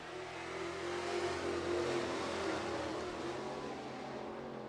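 Pure stock race cars accelerating off the green flag at a dirt speedway night race, a loud sustained roar of several engines building and blending together, no voices.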